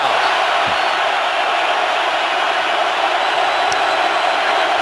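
A stadium crowd at a Seahawks home NFL game against the Panthers yells in a loud, continuous roar that stays steady and dense throughout, with no break.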